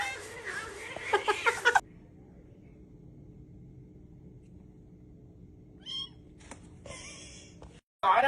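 A cat meows in a short burst of repeated calls near the start, followed by a long stretch of quiet room rumble with a few faint, brief sounds and another sharp sound at the very end.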